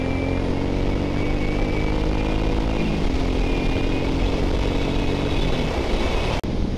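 A Suzuki M109R motorcycle rides along with a loud, continuous low engine rumble and steady wind noise, heard close from the rider's position, with a slight shift in engine pitch midway and no talking.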